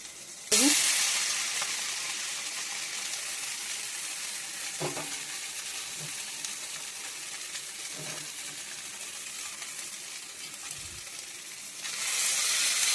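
Maggi noodles cooking in a pan with onions and tomato, giving a steady broadband frying sizzle throughout, with occasional soft stirring knocks and a brief louder hiss at the start and end; no talking.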